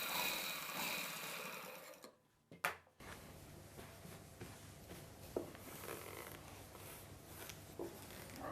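A sewing machine stitches a sleeve piece onto a full-length puff sleeve, running in a steady, close mechanical whir that stops briefly and then resumes, continuing evenly throughout.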